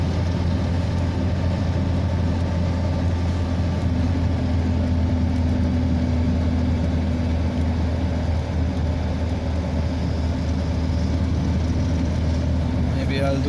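A small 1.3-liter car engine labours up a steep hill, a steady low drone with a constant strained hum filling the cabin, continuous and fairly loud, with no talk.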